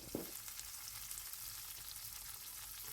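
Onions, green chilies and curry leaves fry in hot oil with mustard seeds and cumin for a Telugu broad bean curry, giving a steady close sizzle, a brief louder clatter at the start, and no talking.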